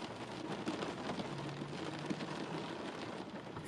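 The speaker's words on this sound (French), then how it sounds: "vous devez entendre un petit bruit de pluie." Rain falling steadily outside during a home evening, a soft, even patter filling the background with no other clear sounds.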